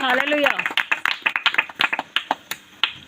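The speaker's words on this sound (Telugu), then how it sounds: "చప్పట్లు కొట్టి దేవుని నామమును మహిమపరచండి పిల్లలు" Children clap their hands in rhythm at a church gathering, a steady run of sharp, close claps following a brief sung or spoken voice at the start.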